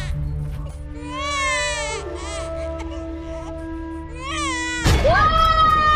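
An infant cries in a home setting, rising wails with harmonic warbles repeated over several seconds, close and loud, with an adult voice talking briefly near the end.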